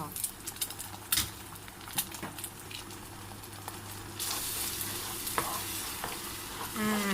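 An egg fries in hot oil with garlic and shallots, sizzling, with occasional stirring and scraping sounds, rising louder and crackling more intensely partway through.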